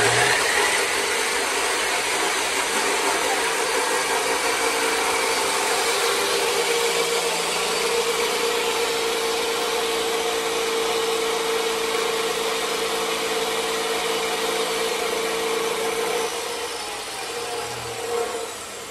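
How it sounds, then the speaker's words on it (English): Two 15-amp motors run together on a 3 kW off-grid Growatt inverter alongside a heater, giving a loud, steady, continuous hum with a sustained tonal whine. It stays even for the whole stretch, with no voices. "what you guys saw there was two of these motors running"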